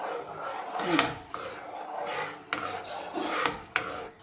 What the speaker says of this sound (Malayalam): കൈ വെക്കാണ്ട് അടുക്കി വെച്ചു നന്നായി ഇളക്കി കൊടുക്കുക